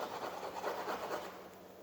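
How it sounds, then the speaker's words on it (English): Oil bar paint is scratched off a surface in a faint, close, continuous raspy scraping with gentle rhythmic swells. "putting it on with the oil bar and then scratching it off a bit"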